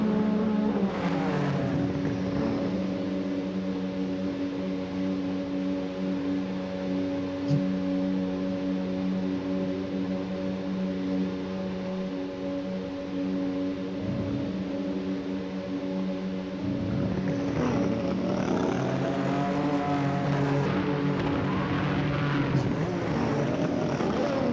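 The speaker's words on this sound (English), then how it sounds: "I'll just allow you to enjoy the revving noises for the next 40 seconds." Race car engines revving together on the starting grid of a racing video game, a dense continuous drone of engine tones that swells and shifts, loud and steady for the whole stretch.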